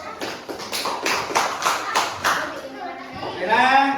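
A classroom of students gives a student group a short burst of rhythmic applause, with evenly spaced claps, followed by voices talking.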